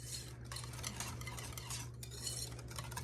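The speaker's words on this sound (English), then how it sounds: "So I want to stir it so you can hear that sugar is dissolved." Gritty scraping and light clinking as a spoon stirs a granular sugar mixture for pie in a bowl, close up, over a low steady hum.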